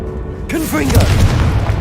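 A booming Confringo spell explosion in the Hogwarts Legacy video game, a sudden loud blast after a quiet start, followed by rumbling debris and whooshing effects while a voice speaks over it.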